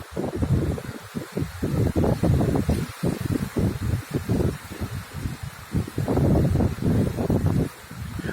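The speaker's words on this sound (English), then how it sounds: "I'm going to speak louder because of the wind." Outdoor wind during Midwest flooding, gusting hard against the microphone as loud, uneven buffeting rumbles that rise and drop throughout with only brief lulls.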